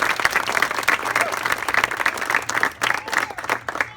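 A crowd at an outdoor ribbon-cutting ceremony in a park applauds with sustained, dense clapping. Voices mix in faintly beneath it.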